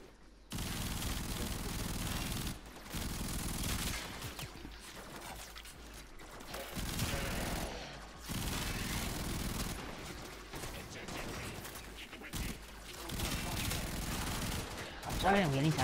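Rapid bursts of gunfire from the Warframe video game, including shotgun blasts, loud and repeated in dense volleys with short gaps, as players talk over the action.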